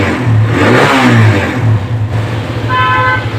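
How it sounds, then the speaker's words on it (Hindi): A Suzuki GS 150 motorcycle engine revs loud and close as the throttle is opened and eased off in rising and falling surges, with a brief horn-like tone near the end. "ये इसका RPM है दोस्तों,"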